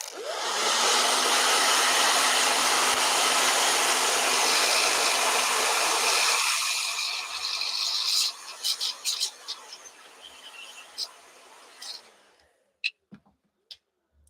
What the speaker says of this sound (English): I'm going to blow dry, so everybody cover your ears.